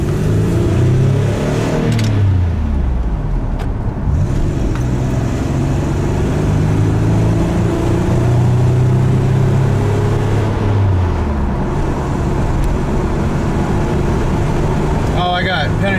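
A 1994 Toyota 4Runner cruising up a highway, its engine droning loud and steady throughout with rising and falling revs and road roar all around.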